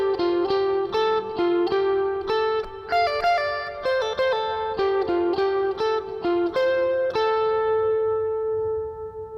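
The full interlude of a worship song on electric lead guitar through effects, a steady melodic run of picked notes with lush ringing sustain that lets the last note fade out, close and alone.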